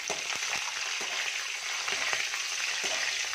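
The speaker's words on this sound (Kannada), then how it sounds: "ಇದಕ್ಕೆ ಕರಿಬೇವು ಹಸಿಮೆಣಸಿನ್ಕಾಯಿ ಹಾಕ್ತಾಯಿದ್ದೀನಿ" Curry leaves and green chillies crackle and spit in hot oil in a pan for mango rice, a dense, close sizzle punctuated by sharp pops with no talk.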